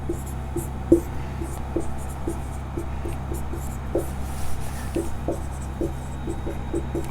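Chalk or marker strokes on a board while working through a Class 9 polynomial factorisation exercise, a steady run of short scratchy taps and rubs, close and fairly quiet, with no talk.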